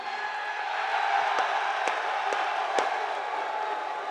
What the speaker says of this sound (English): This is the loudest crowd that I have heard in recent memory